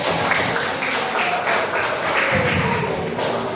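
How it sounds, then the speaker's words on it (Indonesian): Audience clapping at a learning-styles workshop session, a dense steady patter of many hands filling the room for a few seconds, moderately loud with faint voices beneath. "Oke, beri tepuk tangan buat kalian."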